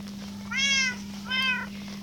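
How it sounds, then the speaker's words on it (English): Two drawn-out cat meows from the video game Good Craft, one after the other and fairly close, over a steady low electronic hum. "And upstairs, I've got like some cats as well, over there."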